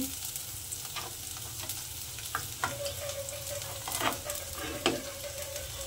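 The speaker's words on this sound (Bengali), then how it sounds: "আমি এখানে সর্বপ্রথমে দিয়ে দিলাম রসুন কুচি, আদা কুচি," Chopped garlic and ginger fry in hot oil for a tarka, a gentle steady sizzle punctuated by several sharp spoon scrapes and stirs against the pan, near and without speech.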